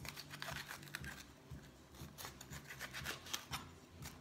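A knife trims the sides of a pepper on a board, giving quiet, close rubbing and scraping cuts in a quick irregular series.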